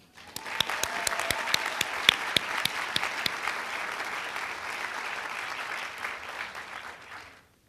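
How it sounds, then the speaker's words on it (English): An audience at a nursing pinning ceremony claps for about seven seconds, sharp individual claps at the start merging into a dense, even roar that fades out at the end. "Do we have another round of applause for Jill and Amy?"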